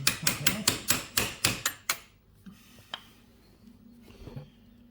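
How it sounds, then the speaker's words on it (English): Light hammer taps on a bolt while lowering the seat height of a Yamaha TTR250 trail bike, about eight quick close metallic strikes in a steady rhythm, then quieter scattered clinks and shuffling. "Give that a little tap."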